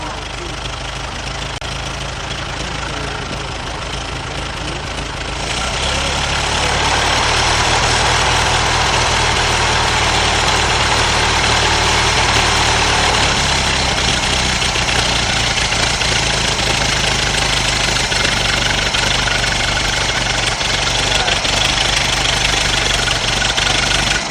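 An old Ford car engine, shown at a vintage car festival, catches and settles into a loud, steady idle with a low, rough rumble, running continuously close by.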